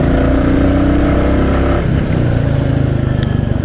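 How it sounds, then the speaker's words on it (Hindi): A 2022 Royal Enfield Classic 350 single-cylinder motorcycle accelerating hard in a drag run, its engine note steady and loud with a low thumping pulse, then a brief dip as it shifts and builds again. "तो एक बार मैं आपको ड्रैग दिखाता हूँ बाइक का, आप स्पीड देखना"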